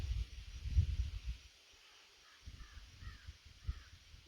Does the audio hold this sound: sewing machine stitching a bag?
no